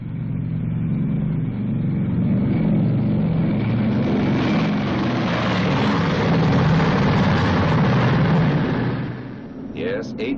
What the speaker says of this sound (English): And those are its 4 Wright 3350 engines.